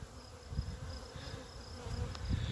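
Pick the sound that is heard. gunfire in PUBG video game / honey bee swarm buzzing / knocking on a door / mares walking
honey bee swarm buzzing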